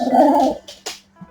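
A dog growls low and steadily for about half a second, then gives a few short, softer whimpering and sniffing sounds, fairly close and with no talk over it.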